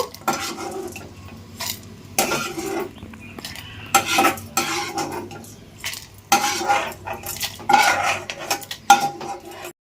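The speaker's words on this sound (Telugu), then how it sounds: "వేగిపోయినాయండి ఇవైతే పక్కకు తీసేస్తున్నాను" Clinking of metal utensils against a pan as fried lentil fritters are lifted out of hot oil, close and busy scraping with intermittent knocks and no talk.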